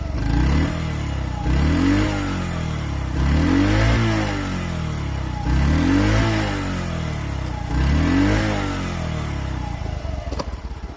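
A Honda Chaly CF50 moped engine idling close by, a steady motor hum that swells in four regular rising and falling revs, with a faint clatter near the end and no talking.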